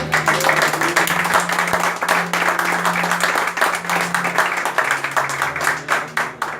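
Church congregation applauding, a sustained wash of many hands clapping close and loud, thinning out slightly toward the end.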